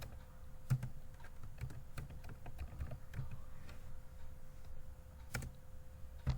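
Computer keyboard typing as text is entered into cells of an Excel spreadsheet: a quiet, steady run of irregular key clicks with a few sharper taps, nearby and without speech.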